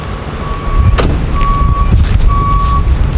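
Delivery truck backing up, its reversing alarm sounding three steady, drawn-out beeps over a constant engine rumble, with no talking.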